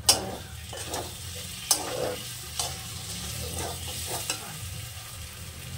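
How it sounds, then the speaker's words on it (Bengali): Spice paste with ground cumin and a little Kashmiri chili powder being fried and stirred in a pan: a steady close sizzle with the repeated scrape and clack of a spoon, and no one talking. "আবারও সুন্দর করে কষে নেব। কালারের জন্য একটু কাশ্মীরি লঙ্কার গুঁড়ো দিলাম অল্প করে।"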